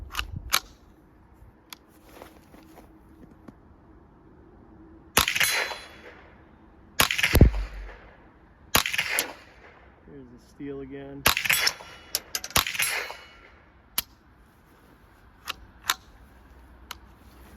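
Suppressed .22 shots from a Surefire Ryder 22-S on Ruger rifles firing CCI Mini-Mag hollow points outdoors, about eight sharp cracks spaced irregularly a second or two apart, with a faint ring of steel targets and a brief spoken line.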